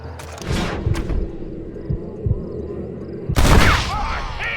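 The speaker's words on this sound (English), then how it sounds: "Marvelous shot, dear boy!" Gunfire in the Red Dead Redemption video game: a few muffled booming shots over a low rumbling game soundscape, then a louder, sharper blast near the end, with no voices.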